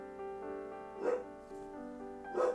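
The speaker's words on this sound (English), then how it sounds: "my dog is barking" A pet dog barks twice in a home, short bursts about a second apart, sounding moderately close over a steady tonal music bed from a Sims 4 building session.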